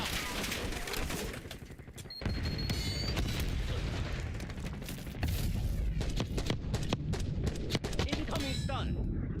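Frag grenade blast in Call of Duty Black Ops 6, a loud booming burst amid dense gunfire and explosions, with chatter and game voice lines running throughout.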